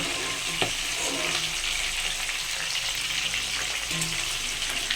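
Potatoes frying in a wok at home, with a steady, close, dense sizzle throughout and a couple of brief clinks from stirring.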